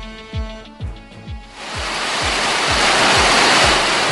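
Heavy typhoon rain and strong wind in Northern Samar build into a loud, steady roaring wash, preceded by a few rhythmic low thumps.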